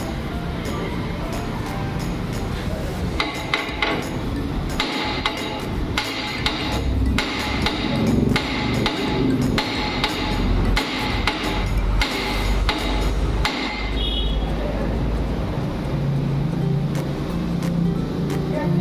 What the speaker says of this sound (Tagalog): Martilyuhin mo dito, dalawa, para matinag siya.